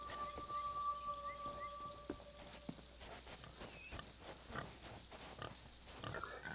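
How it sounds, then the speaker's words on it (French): Pigs grunting in the pirate video game Sea of Thieves, faint and intermittent over a steady game ambience, with soft footstep-like taps and a few high tonal effects. "Vas-y, ici il y a des cochons"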